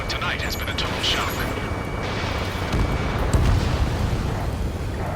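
Explosions in Ace Combat 7 during a night battle over a city under martial law, heavy booms and rumbling blasts layered under continuous loud combat noise, with a deeper burst near the middle.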